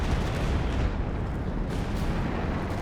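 Artillery barrage in the strategy game Company of Heroes 2, a dense continuous rumble of booming shell fire rolling without pause, loud and close, with no voices over it.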